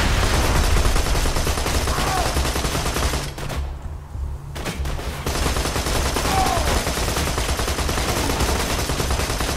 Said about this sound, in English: Vehicle's taking some fire.